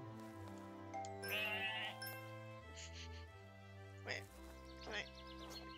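Sheep bleat during shearing, a few drawn-out bleats rising over steady background music with light tinkling tones.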